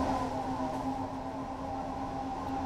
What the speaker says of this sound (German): Ich warte mal ganz kurz, bis der Zug hier vorne anhält